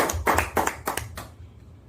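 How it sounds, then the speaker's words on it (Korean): Several sharp hand claps from a small group at a church lecture, close and clear, in a quick uneven run before fading out. "하나님께 영광의 박수 올려드립니다."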